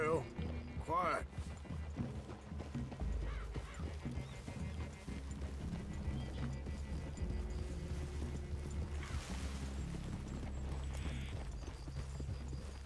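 Horses in the Red Dead Redemption 2 video game: hooves clip-clop over the game's ambience, with a horse's whinny near the start and low rumbling tones beneath.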